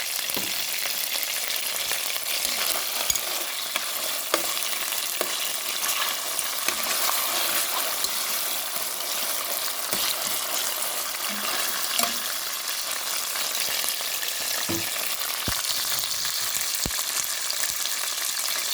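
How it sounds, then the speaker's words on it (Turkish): Hot and sweet pepper paste fries in oil for a buttery pasta dish, giving a steady, even sizzle with occasional faint clicks of a utensil. No one speaks. "Mis gibi kavrulan salçamızı, yağımız güzel güzel kavruluyor."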